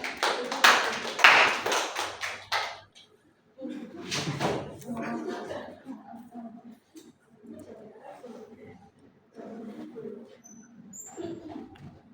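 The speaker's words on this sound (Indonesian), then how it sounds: "Berikan aplaus untuk saudari Marsha." A class claps for a student, with two short bursts of scattered applause in a quiet classroom followed by a voice talking.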